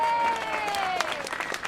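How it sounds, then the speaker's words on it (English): A crowd applauds in a short, continuous patter of many hands, fairly close, with tonal sliding sounds mixed in over the clapping. "So special round of applause for y'all."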